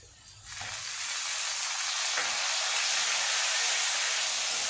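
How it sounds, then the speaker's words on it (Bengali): Grated onion drops into hot oil in a pan for a fish curry with potatoes, setting off a loud, steady hiss that swells within the first second and holds, near and alone. "পেঁয়াজটা একটু ভাজা ভাজা হবে।"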